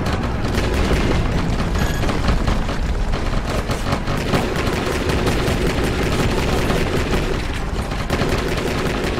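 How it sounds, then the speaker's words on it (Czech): Gunfire and machine-gun shooting in the video game Shadow Harvest: Phantom Ops: a loud, relentless barrage of rapid shots and booming bursts that runs without pause and with no speech. "Člověk začne střílet, zbraň strašně kopé a skoro není vidět přes ty záblesky."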